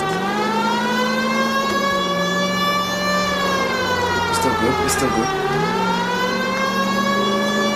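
A police car siren wails in the L.A. Noire video game, a loud, continuous rising and falling electronic tone that dominates the clip, with brief bursts of other noise midway.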